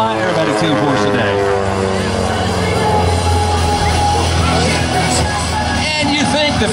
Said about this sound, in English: Ken rolls upside down, and John stays right side up in the mirror image pass